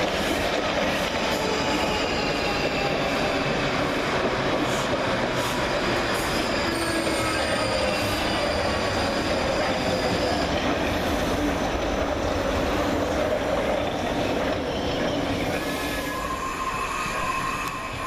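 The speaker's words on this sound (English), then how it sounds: "Quickly arriving with the 1542 Southwestern Railway service from London Waterloo to Hounslow is" A South Western Railway Class 458 train pulls in at Richmond station, its wheels squealing in long high whines over a continuous rumbling rolling roar that lasts throughout.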